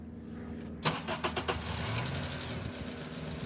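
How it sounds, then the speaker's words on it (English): A car engine cranks in a quick burst of rhythmic turns, then catches and settles into a steady idle, heard close and alone. "Let me start the car, and we'll see what happens"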